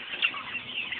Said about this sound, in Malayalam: എത്ര കോഴികളുണ്ട്